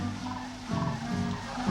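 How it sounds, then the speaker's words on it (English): Birds calling outdoors just before sunrise, a dense, steady chorus of overlapping calls with some lower gobble-like sounds, moderately loud and continuous throughout, with no talking. "There's the birds everywhere."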